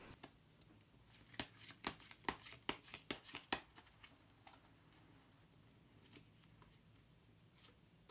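A deck of colour cards being shuffled, a quick burst of crisp riffling snaps in the first few seconds, then quieter handling and a card drawn, close and soft, with no talking.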